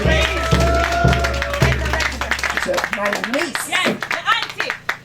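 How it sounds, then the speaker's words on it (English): Clapping from a small group at a funeral service rising under a speaker's voice, with some talking and a brief cheer mixed in. "Give her a nice round of applause."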